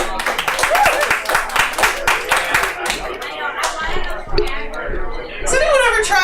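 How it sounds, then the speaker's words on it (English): Comedy night crowd welcoming a comedian with clapping, sharp, close hand claps over several seconds with overlapping cheers and voices, the clapping thinning out as talk takes over. "Give a round of applause for Ruth Ruhnke!"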